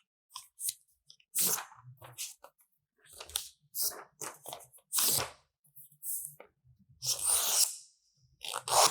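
A small piece of paper being torn from a sheet, giving several short, close crinkly rips and crunches in separate bursts with quiet gaps between them.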